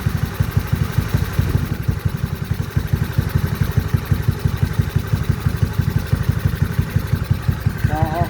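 A motorcycle engine fitted with a Solfili 28mm PWK flat-slide carburetor runs steadily at idle, a close, loud, even rapid pulsing that continues alone from start to finish.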